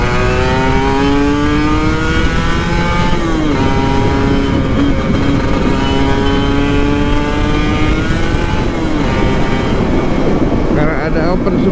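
A Kawasaki Ninja RR 150 two-stroke motorcycle with an open exhaust revs hard and close, its loud buzzing engine note climbing and dipping through several throttle blips with a raspy, continuous drone.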